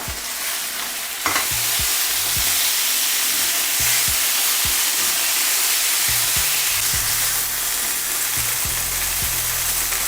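Chicken teriyaki pieces frying in oil in a pan give a loud, steady sizzle up close, broken by repeated knocks and scrapes as the meat is stirred and turned.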